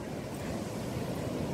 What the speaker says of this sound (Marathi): अथांग असा हा समुद्र